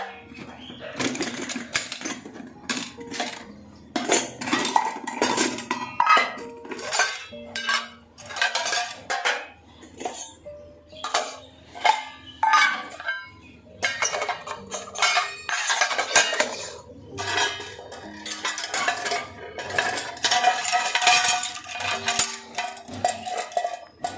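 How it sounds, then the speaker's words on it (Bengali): A food box and dishes being washed by hand at a sink, with dense, continuous clinking and clattering of containers and utensils over running activity, close and fairly loud throughout. "একটু বক্সটা ধুয়ে রাখি।"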